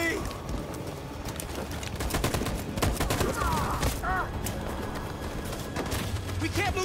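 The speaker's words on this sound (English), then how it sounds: "That machine gun is taking down everything that moves!" Rapid machine gun fire crackles in bursts amid battle noise in the video game Detroit: Become Human, with shouted voices and other game sounds mixed in.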